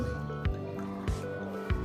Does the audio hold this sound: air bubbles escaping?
yes